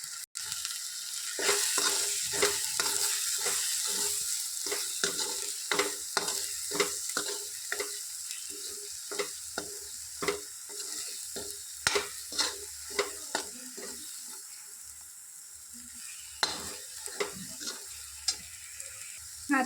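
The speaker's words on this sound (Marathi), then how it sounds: "आता त्यात मी बारीक चिरलेला टोमॅटो ॲड करते आणि त्यालाही मस्तपैकी परतवून घेऊ।" Chopped tomato and Malvani masala sautéing in a pan: a steady sizzle runs throughout, broken by frequent sharp scrapes and knocks of a spoon stirring, close and fairly loud, with no talking.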